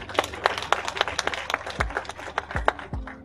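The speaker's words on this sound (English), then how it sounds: "if you want to applaud the president" An audience applauds the President of Nigeria, Buhari, during a speech at a formal event. Scattered, loose claps sound fairly close, with a few low thumps in between, and the clapping stays thin rather than building into a full ovation.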